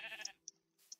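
Sheep bleating in the Minecraft video game, three short, thin synthetic bleats at moderate loudness following a brief burst of other game noise, with no voices.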